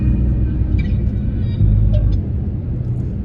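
A car driving on the road, heard from inside as a steady low engine and tyre rumble that continues evenly throughout, with no talking.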